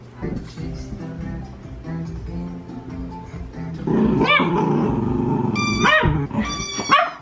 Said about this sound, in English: Why you gotta growl?